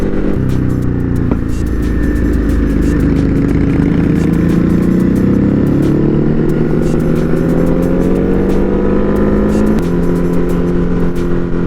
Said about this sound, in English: A few bikes going by